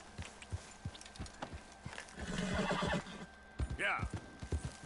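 Horse whinnying and clip-clop hooves in the Red Dead Redemption 2 video game: a run of hoof thuds, a sharp neigh near the end, with a voice speaking over part of it.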